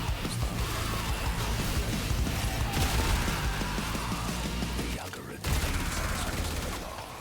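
Steady, dense weapon fire from a gun in the game Warframe runs almost the full length, loud and continuous with a brief dip near the end, and a voice may sit faintly beneath it.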